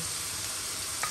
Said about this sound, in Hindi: अब इसे भूनेंगे जब तक इसका कच्चापन कम ना हो जाए